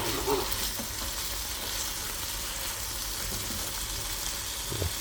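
Grass-fed 80/20 beef patties frying in grease in a pan, a loud, steady, dense sizzle throughout with faint scraping near the end.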